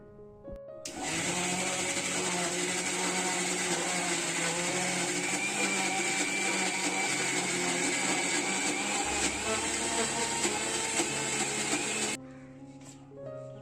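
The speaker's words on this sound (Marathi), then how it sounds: "मिक्सरला ग्राइंड करून घेणार आहोत" A mixer grinder grinds raw mango pulp, running loudly and steadily for about eleven seconds, a high whirring motor drone that starts abruptly and cuts off near the end.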